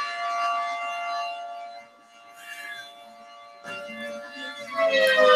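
A civil defense siren wails nearby outdoors during an interview, a loud steady tone that dips and swells as it rotates, rising again at the end, sounding alone without talk.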